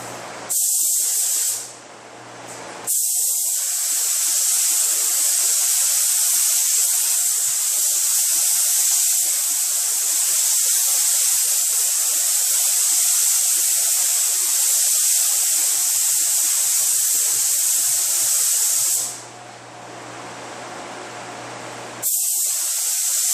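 Spray gun laying a first color coat over sealer on a 2013 Hyundai Elantra quarter panel: a loud, steady hissing spray in long continuous passes, with two short breaks between passes.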